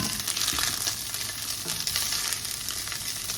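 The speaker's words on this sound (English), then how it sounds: "I think that's enough for browning the rice" Rice browning in a pan for fried rice makes a continuous close sizzle with soft crackling throughout, and no one speaks.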